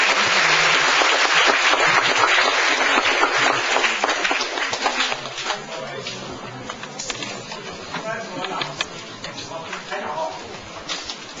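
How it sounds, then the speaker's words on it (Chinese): Audience applause welcoming a teacher at a high school literature camp lecture on Hakka culture, loud and dense at first, then thinning and tapering to scattered claps, with murmuring voices underneath. "热烈掌声迎接童庆祥老师"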